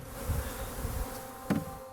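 Honeybees hum in a continuous buzz while hovering around a strong, thriving hive, with a brief louder pass close by near the end.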